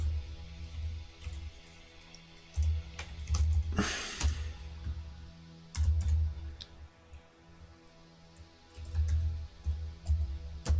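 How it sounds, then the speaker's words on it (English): Clicks from a computer keyboard come in scattered bursts with pauses between them, heard close and fairly quiet, with a brief rustling noise in the middle. "Sorry, I was just typing something."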